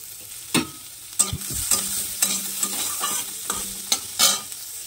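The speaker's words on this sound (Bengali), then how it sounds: "পেঁয়াজ আর কাঁচা লঙ্কাটা একটু ভেজে নেব। এবার দিয়ে দেবো গাজর কুচি।" Onion, green chilli and finely chopped carrot fry in a pan, a soft sizzle broken by repeated scraping stirs and clacks of the spoon, close up with no talking.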